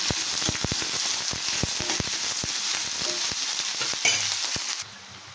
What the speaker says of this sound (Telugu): ఆనియన్స్, కరివేపాకు వేసేద్దాము. వేసేసి బాగా ఫ్రై చేసుకోవాలి.